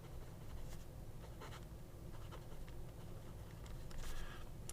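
A Hongdian M2 brass fountain pen with a medium steel nib gliding across paper, producing faint, close scratchy strokes over a steady low background hiss.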